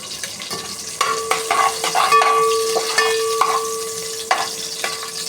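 Green chillies, cloves and cardamom stirred in a hot pan for khichdi, a steady sizzle and frying crackle with repeated scraping strokes of a spoon, close and fairly loud, no talking.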